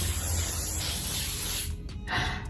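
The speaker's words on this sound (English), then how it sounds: "I'm gonna use my spray. This is hairspray, just for the shine and the healthy looking hair" Hairspray hisses onto hair in one continuous aerosol burst lasting nearly two seconds at close range, then cuts off into a couple of short faint puffs.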